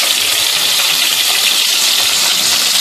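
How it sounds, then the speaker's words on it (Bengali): Whole cumin seeds tempered in hot oil for a Bengali-style prawn curry give a loud, close, continuous crackling sizzle with dense spitting pops throughout and no voices. "এবার ওই তেলের মধ্যে প্রথমে গোটা জিরে ফোড়ন দিয়ে দিলাম"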